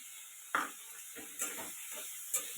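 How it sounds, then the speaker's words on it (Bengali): Spices with turmeric and chopped tomato fry in a pan for a katla fish head ghonto, a soft continuous sizzle broken by three sharp spatula scrapes and knocks spaced about a second apart. "এবার এটাকে নাড়াচাড়া করবো ভাজছি ভালো করে মধ্যে টমেটো কুচিটা দিয়ে দিলাম"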